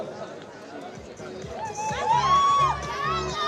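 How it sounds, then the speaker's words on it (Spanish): Crowd at an awards podium for a women's trophy event in Estella cheers and shouts, rising to a louder swell of excited voices and high calls midway through, then holding a steady roar. "El más fuerte de los aplausos"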